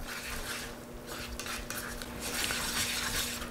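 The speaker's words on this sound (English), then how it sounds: "I'm going to stop stirring here for just a second" A spoon stirs a simmering flour-thickened sauce in a pot on the stove, making a steady close scraping and clinking over a constant bubbling, sizzling bed, with no talk.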